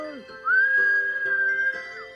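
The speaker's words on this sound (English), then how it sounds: "To his team gave a whistle" One person gives a sharp whistle to a sleigh team: a single clear tone that slides up and holds steady for about a second and a half before dipping at the end.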